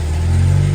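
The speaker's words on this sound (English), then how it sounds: "the point of starting the engine is to let the engine warm up" A 2021 Jeep Wrangler 2.0 turbo engine runs while warming up, a loud, close, steady low rumble that swells slightly toward the end, with no voices.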